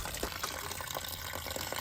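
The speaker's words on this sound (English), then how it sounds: "one thing I gotta do before I take those lines out is drain this tank" Water draining from a Ram Promaster camper van's water tank through a small drain valve, a steady close splashing gush with faint dripping, continuous and without talk.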